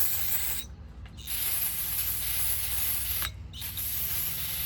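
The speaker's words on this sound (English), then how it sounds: "But get some brake cleaner. We're just gonna spray it on out." Brake cleaner sprays onto a motorcycle bearing in two hissing aerosol bursts, a short one and a longer one, over steady broadband workshop noise with no talking.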